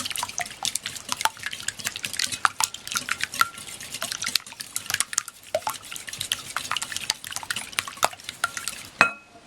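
A whisk clicks quickly against a bowl as eggs are beaten for bread pudding, a loose rapid tapping rhythm with sharp ticks, close and fairly quiet.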